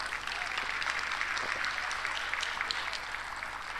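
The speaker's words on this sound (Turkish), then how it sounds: "Kendilerinize de bir alkış istiyorum." Audience applause at an outdoor municipal event for people with disabilities, a continuous wash of many hands clapping at moderate distance, steady and fairly quiet for several seconds.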